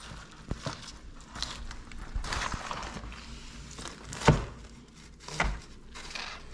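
A knife cubes the point of a smoked brisket on a cutting board, giving faint, irregular chops and thuds with a couple of sharper knocks against quiet background noise.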